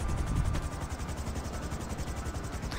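A helicopter in the video game GTA sits by after landing, its rotor chopping in a fast even pulse with a broad whooshing wash, fairly close and steady with no one talking.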